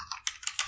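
Several quick keystrokes tapped on a computer keyboard while entering a Linux terminal command, a short close burst of light clicks with no talking.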